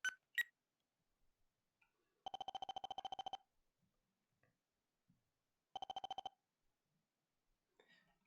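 A telephone ringing in the PlayStation game Mizzurna Falls, two clean bursts of rapid electronic trilling separated by a few seconds of near silence, with short beeps at the start.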